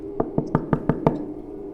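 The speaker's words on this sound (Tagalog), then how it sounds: "malakas na pagkatok sa aking pintuan" Six rapid, evenly spaced knocks on a door ring out loud and close in a short burst, used as a horror story sound effect, then stop.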